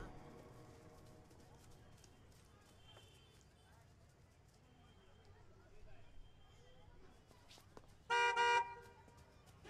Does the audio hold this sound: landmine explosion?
no